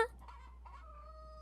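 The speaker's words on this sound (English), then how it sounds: "A rooster?" A rooster in the royal-court game Yes, Your Grace gives a brief, faint crowing call with a few clucking notes, heard alone against a low steady hum.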